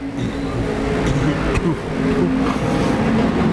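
IMCA stock cars race around the Arizona Speedway track, a steady loud engine roar filling the whole stretch while an announcer calls the action over it.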